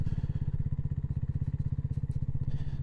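Motorcycle engine thrumming at a steady low pulsing beat while riding a rough mountain track near an edge, close and continuous with faint rattles over it.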